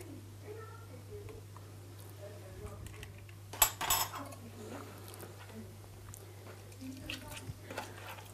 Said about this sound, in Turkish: 5 kaşık yoğurt, 2 yumurta sarısını bunu güzelce çırpıyoruz.